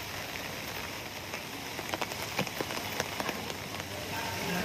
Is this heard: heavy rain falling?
yes